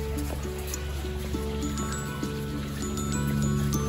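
A steady, close trickle and splash of mineral water flows from a spring outdoors in Lithuania, continuous under faint background hum, with no talking.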